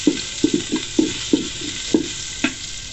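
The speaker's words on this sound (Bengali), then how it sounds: "চুলায় তেল দিয়ে একটুখানি ভেজে নিতে হবে।" Chopped onion frying in oil in a pan on a stove for dudh puli pitha, with a steady close sizzle broken by about nine sharp, evenly spaced scrapes and clatters of stirring.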